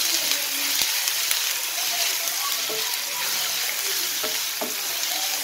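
Onion, ginger and garlic frying in a pan while being stirred, a steady close sizzle with repeated scraping strokes of the spoon throughout.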